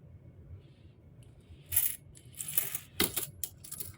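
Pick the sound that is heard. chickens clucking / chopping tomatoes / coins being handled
coins being handled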